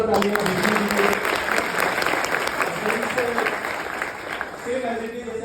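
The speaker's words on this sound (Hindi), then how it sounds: "एक बार जोरदार तालियां विष्णु जी को।" An audience at a direct-selling industry event applauds steadily for several seconds with a dense, continuous clatter of clapping. A voice speaks intermittently beneath it, and the applause eases slightly toward the end.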